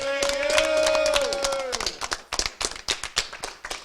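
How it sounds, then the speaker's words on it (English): An audience at a youth baseball championship media day gives a round of applause: a tonal ringing sound fades, then sharp individual claps follow in a loose, scattered rhythm, fairly close. "Let's all stand up and give them back home a big standing ovation and a round of applause"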